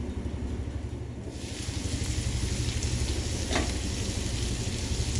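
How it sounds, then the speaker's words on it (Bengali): Taro root frying with prawns in a covered pan, a steady dense sizzle that jumps louder after about a second and then holds evenly, close and continuous, with no talk. "দুই মিনিট ঢাকা দিয়ে একটু কষিয়ে নিচ্ছি।"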